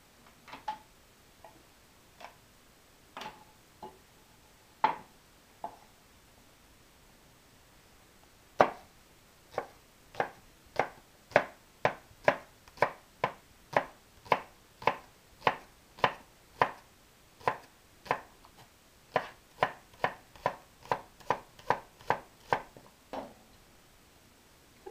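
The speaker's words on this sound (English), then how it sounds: "we're going to chop up some green onion" A knife chops green onion on a cutting board, sharp dry taps landing in sparse irregular strokes at first, then speeding into a fast steady run of close, crisp chops.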